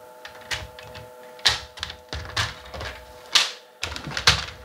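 Paper card being trimmed for scrapbooking, heard as a series of sharp, clacking cuts and slides of a trimmer blade in irregular bursts, close and fairly quiet with no talking.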